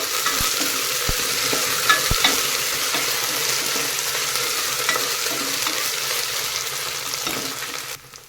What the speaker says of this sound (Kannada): ಫ್ರೈ ಆಗಬೇಕು ನಮಗೆ ಈರುಳ್ಳಿ ಎಲ್ಲ ಮಸಾಲೆಗಳು